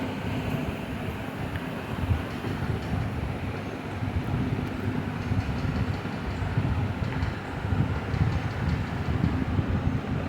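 A sewing machine runs continuously while stitching a prince-cut blouse, a steady, even rumbling whir with no pauses.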